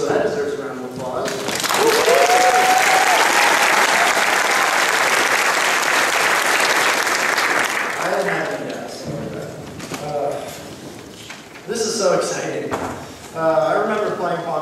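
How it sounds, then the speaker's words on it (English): A big room erupts in loud applause that swells and holds for several seconds, then fades as a voice starts speaking, at a high school graduation ceremony. "Everybody graduated, so that deserves a round of applause."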